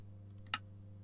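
A single sharp computer mouse click, close and isolated, set against a steady low electrical hum.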